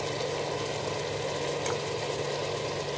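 Browned mutton sizzles steadily in a hot pan as crushed onion is added, a continuous loud frying hiss with faint stirring.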